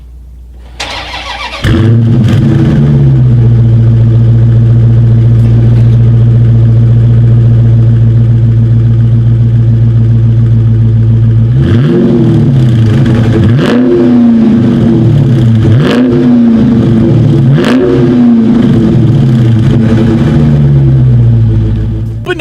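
A 2019 Dodge Charger Scat Pack fires up with a loud starter burst, settles into a deep, steady exhaust idle, then barks through several sharp revs before dropping back, all close and with no talk.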